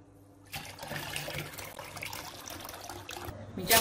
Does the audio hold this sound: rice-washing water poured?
yes